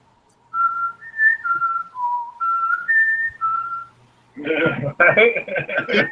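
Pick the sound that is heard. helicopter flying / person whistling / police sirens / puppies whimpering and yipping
person whistling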